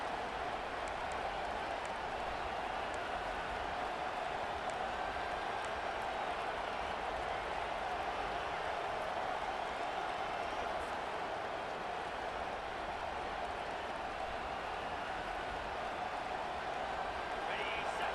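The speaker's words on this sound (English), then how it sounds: "Listen to this crowd." A dense, steady roar from a stadium crowd in the EA Sports College Football 25 video game, swelling late in a tied fourth quarter. The noise holds loud and unbroken throughout.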